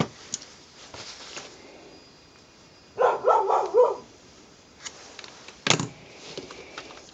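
A dog barks in a short close burst of several rapid woofs in a workshop, with faint handling clatter and a sharp knock before and after.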